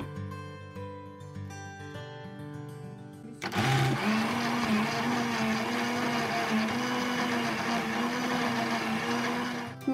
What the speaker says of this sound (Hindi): और मलाई और इन सब चीजों को अच्छी तरह से ग्राइंड कर लेना।